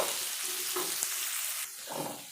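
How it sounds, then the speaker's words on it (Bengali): Chopped onions fried in hot oil for mutton curry, a soft steady sizzle with a couple of brief stirring scrapes. "কুচিয়ে রাখা পেঁয়াজগুলো এখন দিয়ে দেব।"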